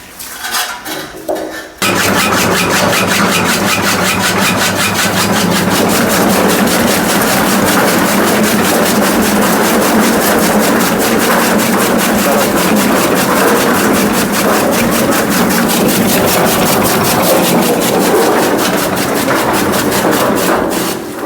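A chaff cutter for chopping fodder starts up after a short quiet moment and runs steadily with a dense mechanical roar and rapid clatter throughout.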